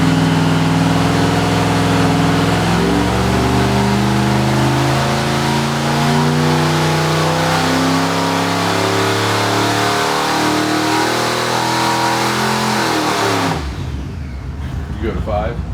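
A car engine revs hard on a dyno, building a loud sustained roar with rising and falling harmonics for about thirteen seconds before cutting off abruptly, leaving a brief rumbling decay.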